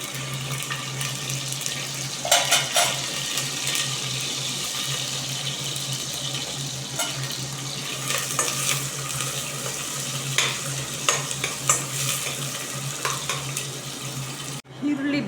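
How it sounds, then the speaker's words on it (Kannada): Chopped onions sizzling in a hot pan, a continuous close frying hiss with occasional clinks and scrapes of stirring. "ಇವಾಗ ಈರುಳ್ಳಿ ಹಾಕ್ತಾಯಿದ್ದೀನಿ"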